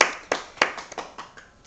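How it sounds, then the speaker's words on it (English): A brief, sparse round of applause: a handful of separate claps in a quick, slightly uneven rhythm, close by and fading out. "let's just give everyone a round of applause"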